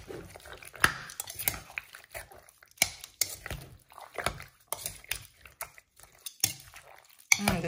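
Jerk chicken gets stirred in a crock pot, with irregular clinks and scrapes of a utensil against the pot and soft squishy sloshing, fairly quiet with sharp clatters scattered throughout.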